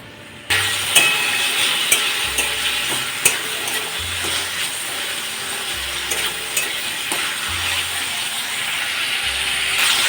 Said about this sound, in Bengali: দুটো টমেটো স্লাইস করে কেটে নিয়েছিলাম এগুলো কড়াই দিয়ে দিচ্ছি